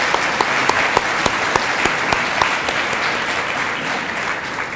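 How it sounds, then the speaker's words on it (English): Audience applause at a community college student recognition ceremony, loud and steady dense clapping from a large crowd that holds for several seconds and fades slightly at the end. "Tanya, so let's give them a round of applause"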